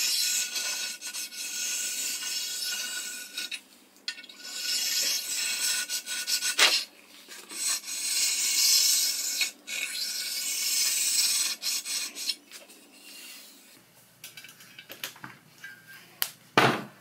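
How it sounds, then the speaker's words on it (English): Plain sharpening stone rubbed over the machined faces of a 7x12 mini lathe bed, close hissing strokes in uneven bursts separated by short pauses, quieter toward the end. "I'm using a normal stone to smooth away some of the machining marks."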